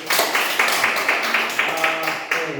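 A classroom group applauds for a presenting team during a teacher training session, with dense, continuous clapping and voices heard under it.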